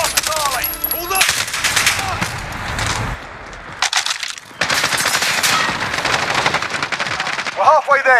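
Bursts of rapid machine gun fire in a first-person shooter video game, loud and close, with a short gap of near silence in the middle, and voices talking between the volleys.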